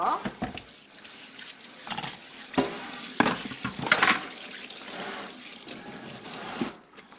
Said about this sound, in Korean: 도마 세척 한번 할게요.